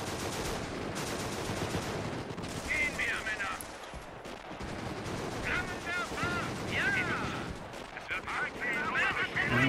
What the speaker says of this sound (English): The mortar's actually sending out rounds on them?